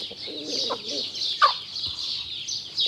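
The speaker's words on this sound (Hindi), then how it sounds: "और ये लाका मुर्गा है" Lakha Aseel rooster and hen cluck in short, close bursts over a faint high background hiss, with no talking.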